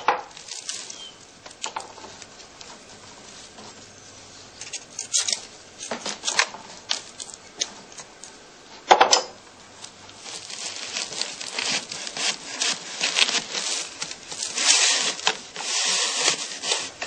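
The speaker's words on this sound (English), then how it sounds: "The knife and the awl are the chief tools used during such repair work." Knife and awl work on a heather bee skep under repair, with repeated scraping, snipping and crinkling of reed and straw, close and irregular, bunching into denser bursts late on, with no voices.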